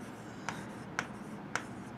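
Pen strokes writing out a calculus equation on paper, a soft continuous scratching punctuated by four evenly spaced taps roughly every half second, close and fairly quiet with no voice.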